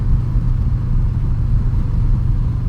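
Steady roaring wind buffeting on a Shoei RF 1400 helmet at 80 mph, a dense low rumble pressing continuously close to the ears with no breaks.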